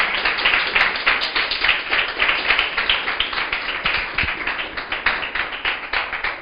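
A church congregation clapping together in a fast, steady rhythm, loud and close, with bright sharp claps repeating evenly throughout and no voices over them.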